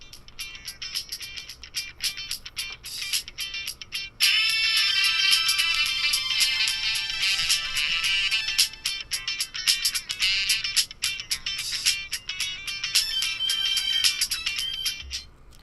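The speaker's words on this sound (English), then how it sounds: "I'll play my copyright free music here, and so you can really get a listen here" Copyright-free music plays through KingYou earbuds, a bright, ringtone-like melody with repeated rhythmic notes that gets fuller and louder after a few seconds and carries on steadily, with no talking.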